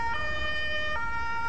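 An ambulance siren wails steadily and loudly with a brief shift in its tone partway through, sounding alone without any talk.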